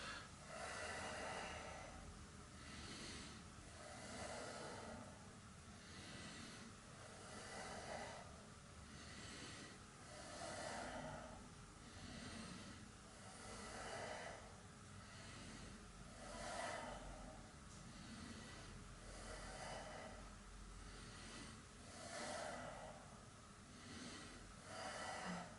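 Slow, steady breathing during a yoga pose, with regular rhythmic breaths repeating every couple of seconds, close and soft, with no talking.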